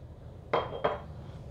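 A homemade chicken nem filling with mushrooms, soy, salt and pepper is mixed by hand in a bowl, giving two quick, close clinks against the bowl over a quiet background.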